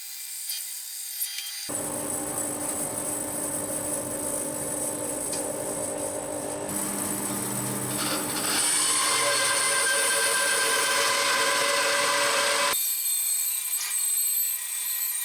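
A new saw blade cuts through Huon pine in a workshop, a loud, continuous, close whine of the blade in the wood that holds steady for about eleven seconds and then cuts off abruptly, with no talking.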